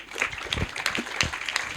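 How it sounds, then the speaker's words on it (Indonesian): An audience at an urban climate panel discussion gives a round of applause, a soft, steady patter of many hands heard from a distance in a hall, fairly faint throughout. "Kita tepuk tangan dulu dong sekali lagi"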